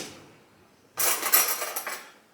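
A teaspoon clinks and scrapes against a dish while scooping fresh honey in a home kitchen, a burst of close metallic rattling and tapping that starts abruptly after near silence and continues for over a second.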